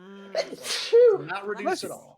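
A single sharp sneeze bursts out mid-conversation at a tabletop game session, with people talking just before and after it.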